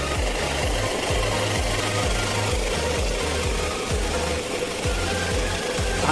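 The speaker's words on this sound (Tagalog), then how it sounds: "Ingay ng muffler eh." Up close, a vehicle exhaust with a noisy muffler chugs in a loud, rapid, uneven putter, with regular low thumping pulses under a constant rattling roar.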